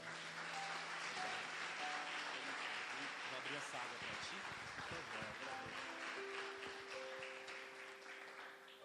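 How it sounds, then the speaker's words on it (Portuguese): A church congregation at an anniversary conference applauds together, a dense, fairly quiet patter of clapping with held musical notes running underneath and gradually fading. "Vamos aplaudir o Senhor."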